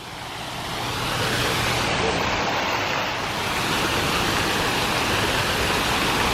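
Water from a waterfall at a resort pool in Turks and Caicos pours down in a steady, loud, broadband rush that swells slightly after the first second and then holds constant.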